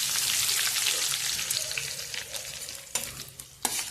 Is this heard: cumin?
yes